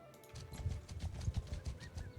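Horse hooves clop rhythmically in Mount & Blade II Bannerlord, a quick run of close, evenly spaced thuds at moderate volume with a faint background hum.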